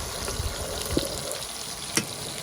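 Eggplant slices fry in hot oil in a pan, giving a steady close sizzle and crackle with a couple of sharp pops, no voices.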